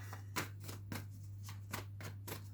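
Tarot cards are shuffled close by in a rhythmic series of crisp riffling bursts, about eight in quick succession, over a steady low background hum.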